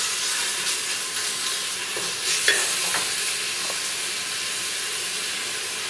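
Bacon for feijoada frying in a pan, a steady broadband sizzle and hiss throughout with a few brief stirring clinks near the middle, no talking.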